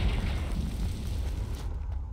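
A Confringo spell explosion in Hogwarts Legacy rumbles loud and continuous, a deep sustained blast that fades slightly toward the end, with no voices.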